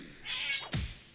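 A cat in a tactical PVP deckbuilder video game lets out a single clear meow that rises and then falls, close and fairly loud over a low background hum, with no talking.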